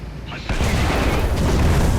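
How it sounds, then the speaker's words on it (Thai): A tank shell explodes in War Thunder: a deep boom that hits hard halfway through and leaves a loud, rumbling wash, with a voice talking underneath. "อ่ามันจะระเบิดแล้วก็เจาะไปอีกทีด้วยนะครับ"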